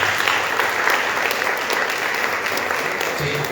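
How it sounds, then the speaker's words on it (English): Sustained audience applause at a Saiva Sithantha Sangam 85th anniversary gathering, given as a tribute to a Swami; dense, steady clapping from a large crowd fills the whole stretch at even loudness, with no speech over it. "it's only fitting to give Swami another round of applause for this"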